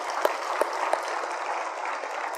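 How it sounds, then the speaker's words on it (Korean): A church congregation applauding during a Sunday service, steady sustained clapping from a crowd with a few sharper individual claps standing out early, all at an even level. "영광의 박수를 하나님께 드립니다"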